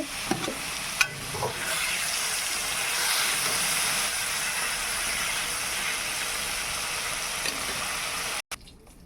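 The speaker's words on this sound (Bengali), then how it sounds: "পনিরগুলো এখন ভেজে নেব।" Loud, steady sizzle of paneer with a little turmeric frying in a hot pan, with a few clinks of a utensil stirring near the start.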